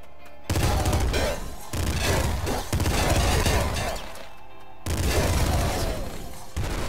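Rapid bursts of gunfire from two assault rifles dual-wielded in the top-down shooter Nuclear Throne, loud and dense across most of the stretch, broken by two short pauses before the firing starts again.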